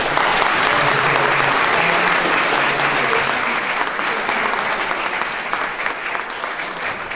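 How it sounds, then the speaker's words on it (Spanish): Loud, sustained applause from a festival crowd for mariachi musicians at a village celebration for Santa Teresita de Jesús in El Salitre, Guerrero, steady clapping that fills the whole stretch with a faint voice underneath. "vamos a darles un aplauso fuerte."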